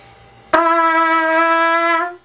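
A single sustained trumpet note, played with too little air, sounds after a faint airy buzz, thin and slightly flat in tone, held steadily for over a second before cutting off.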